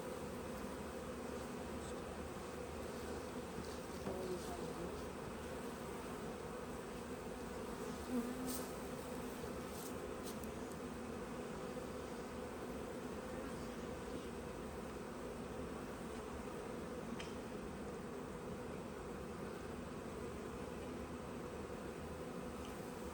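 Swarm of honey bees droning steadily around an open hive during autumn winter preparation, a dense continuous buzz close by with a few individual bees passing nearer, no talking.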